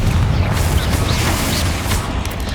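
Confringo spell explosion in the Hogwarts Legacy video game, a loud, dense, continuous roaring blast that fills the whole clip with rumbling low end and crackle, with no voices.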